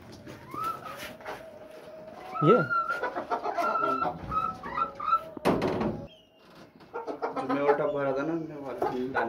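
Chickens cluck and squawk nearby at a market amid a thump like a door, with people talking in between.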